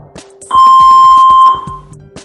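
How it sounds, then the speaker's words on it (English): A single loud, clean electronic power-on beep from a Saver One AED defibrillator sounds for about a second, sharp and close, with faint clicks and handling noises around it. "A beep will confirm it's switched on."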